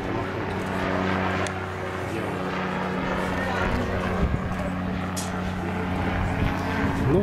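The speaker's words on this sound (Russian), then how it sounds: "вертолет какой-то махнул" A helicopter passes overhead outdoors, its steady engine and rotor drone loud and continuous throughout, with a low clattering pulse beneath and a voice talking briefly over it.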